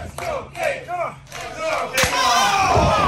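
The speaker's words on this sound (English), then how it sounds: "Our crowd getting a little chattier tonight." A wrestling show crowd shouts and chants in rising bursts, a few swelling cheers that grow into a sustained loud roar by the end, filling a large arena.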